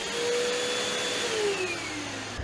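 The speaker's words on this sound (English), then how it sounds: "we'll be powering up this 12 amp vacuum" A 12 amp vacuum cleaner runs on a Bluetti AC300 power station, its steady loud motor whine holding close and alone throughout, with a faint rising tone near the end.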